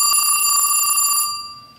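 A Western Electric Bell System P1A telephone ringer on a 1A2 key system display sounds a bright, close, rapid metallic bell trill for about a second and a quarter, then stops and its tone fades out.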